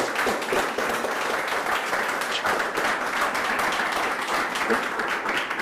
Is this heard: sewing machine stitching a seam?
no